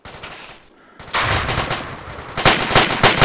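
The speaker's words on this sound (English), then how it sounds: "Alpha 3 taking sustained automatic fire." Sustained automatic gunfire in a military shooter game, a dense, loud, continuous rattle that grows heavier and more rapid toward the end, with one brief gap near the start.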